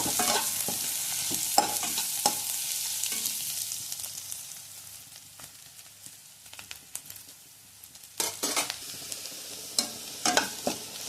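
Onions and green chilli sautéing in a pan give a steady sizzle with repeated scraping stir strokes, quieter in the middle and picking up again near the end.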